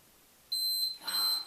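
A high, steady electronic beep tone sounds continuously for about a second, with a brief rustle partway through, in an otherwise quiet room.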